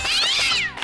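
A cat gives one drawn-out, rising and falling meow, loud and close, while being washed and shampooed by an automatic cat-washing machine.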